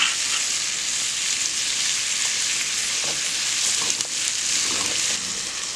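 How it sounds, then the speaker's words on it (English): Onions cook in butter for a venison, kale and potato soup, giving a steady, even sizzle that stays close and fairly loud throughout, with faint scrapes now and then. "Just kind of cook these onions in the butter until they're a little bit translucent."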